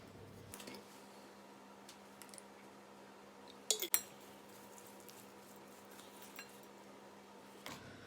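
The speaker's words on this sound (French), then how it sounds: "Je remue." A spoon stirs a homemade muesli mixture with oil and fruit juice in a bowl, quiet soft scraping broken by a couple of sharper clinks of spoon against bowl midway.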